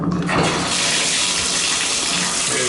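A bathtub shower in an apartment blasting water at full pressure, a loud, dense rushing hiss that starts abruptly and runs steadily, close by with no talk.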